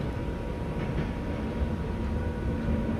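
Train ride in the Minecraft Transit Railway game: a steady, loud rumbling rail drone with a low hum runs unbroken throughout, no voices present.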